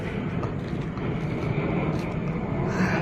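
An airplane passes high over a quiet village, a broad, continuous roar that stays fairly loud and steady and swells slightly toward the end.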